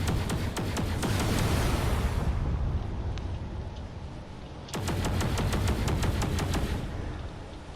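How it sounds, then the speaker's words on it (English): Turret gunfire from a sinking ship in the game Drone Wars, firing at fighters overhead: steady rapid volleys of sharp shots over a heavy rumbling roar, continuous and loud, easing mid-way before resuming. "But now all these turrets are trying to do their best to take out those fighters up above."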